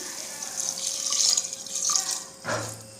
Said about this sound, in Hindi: अभी 1 कप पानी।